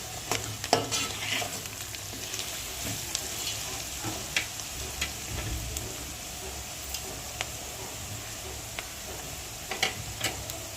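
Turmeric and salt roasting in a pan for poha, a soft steady sizzle with scattered clicks and scrapes of stirring throughout, close and fairly quiet with no talking.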